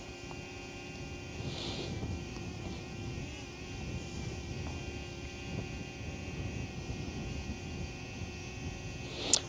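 A DJI Flip drone flies a circular orbit, its steady high-pitched propeller whine holding constant and moderately close through the whole stretch with no talk.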